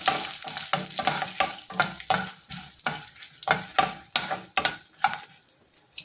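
Urad dal, fenugreek seeds, mustard seeds and dried chili frying in hot oil for a South Indian tempering, loud crackling sizzle with repeated scraping stirs in a steady rhythm, close up and without talk.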